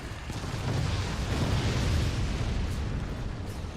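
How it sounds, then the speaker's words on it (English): A volley of rockets explodes in the Forts real-time strategy game, merging into a dense continuous rumbling roar of blasts that holds steady throughout. "That next volley of rockets will be devastating."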